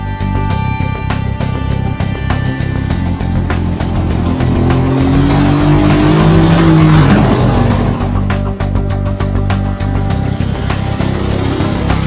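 A Mercedes-AMG GT drives hard, its engine and exhaust loud and close, the note swelling and rising in pitch midway before settling, with a hint of tire noise and no talking.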